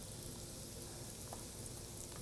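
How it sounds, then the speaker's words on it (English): Food sizzles steadily in a cast iron pan, a continuous close frying hiss with faint pops and no speech. "Got that nice frying going on."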